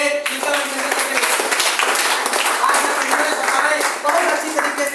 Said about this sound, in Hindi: फिर से जबरदस्त ताली होनी चाहिए